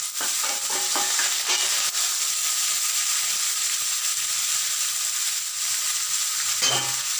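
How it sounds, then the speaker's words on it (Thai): Fermented bamboo shoots stir-fried in a hot pan with garlic, a loud continuous sizzle and hiss with scraping stir strokes, close and steady throughout. "ใส่หน่อส้มก่อนนะครับพัดหน่อส้มไปนะครับ"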